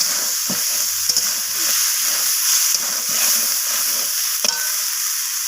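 Prawns and ginger paste sizzle loudly in a hot pan, a constant bright hiss with a handful of clanking stirs and scrapes from the spatula scattered through it.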